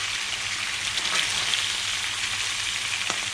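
Garlic chips frying in a pan beside a smoking trout cookout at Eucumbene Dam, a steady, close, loud sizzle with faint crackles and no talking.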